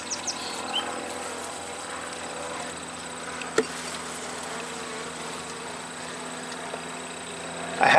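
Steady buzzing of honeybees around an open hive fills the air, a dense, close hum with a faint mechanical drone underneath and no voices.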